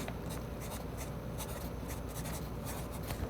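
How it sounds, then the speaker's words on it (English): A pen scratches across paper in close, quiet strokes, a steady run of soft scribbling with small rhythmic accents while record names are noted down. "So, I will write that down now."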